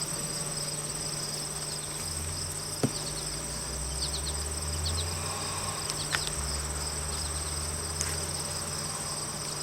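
Honeybees hum around an open backyard hive in Swanzey, New Hampshire, a dense steady buzz filling the whole stretch, with occasional louder bees passing close and a faint tonal drone underneath.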